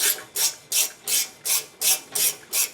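A ratchet wrench drives a 5/8 bolt into the lower ball joint and spindle of an Audi Q5, eight loud, evenly spaced clicking strokes up close with no talk.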